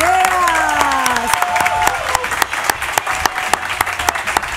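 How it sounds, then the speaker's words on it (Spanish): A studio audience breaks into loud applause for guitarist Gaspar Venegas, dense clapping with distinct sharp claps and some cheering, while a voice talks in the first seconds. "Aplausos, por favor, para Gaspar Venegas."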